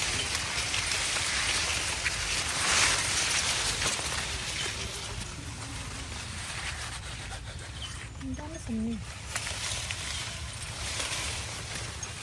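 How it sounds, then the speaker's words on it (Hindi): Light drizzle falls over farm fields planted with vegetable plots, a steady soft hiss of rain, heard alongside faint background sounds. "बूंदाबांदी हल्की हल्की हो रही, मतलब रिमझिम वाली बारिश है, फुहारे पड़ रही हैं।"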